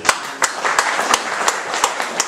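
A church congregation claps in a steady rhythmic beat, sharp evenly spaced claps roughly every third of a second over a softer bed of scattered clapping and murmur.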